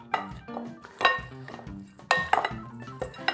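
Avocado corn salad with hot pepper is stirred in a bowl, giving irregular clinks and scrapes of a utensil against the dish in several close bursts.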